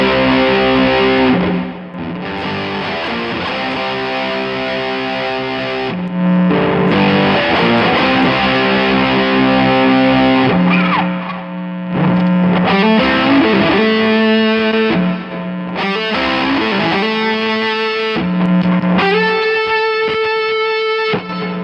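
An overdriven electric guitar plays dense distorted chords and riffs through a pedalboard, first loud and fully saturated, then continuing with the same gritty tone at a lower level set by a volume pedal, with no talking.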